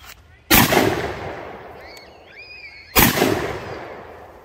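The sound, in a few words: Stoeger 12 gauge over-under shotgun shooting soda bottles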